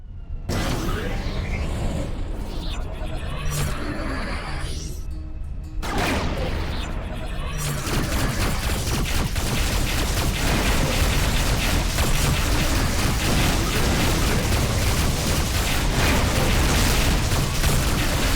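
Broadside cannons and explosions in the space combat game Rebel Galaxy form a loud, continuous roar of overlapping booms and blasts that thickens into a dense barrage partway through.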